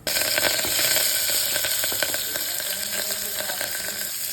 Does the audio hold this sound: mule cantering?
no